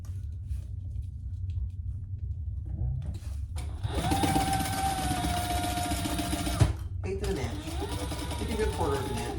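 A sewing machine bastes a seam on a crossbody bag, running in a loud steady whir for a few seconds, stopping briefly, then starting again, with a voice speaking at the start.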